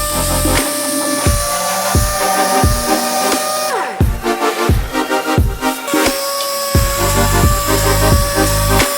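Sanding on a wrecked RAM 1500 truck body with 180 grit sandpaper from a power sander. A steady, loud machine whine runs throughout, and repeated rough strokes pulse about once a second.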